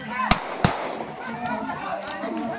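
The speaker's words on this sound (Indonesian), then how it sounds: "polisi kemudian memberikan tembakan peringatan ke udara" Police warning shots fired into the air to break up a crowd at an arrest scene: two sharp, loud bangs in quick succession near the start, followed by a steady murmur of crowd voices.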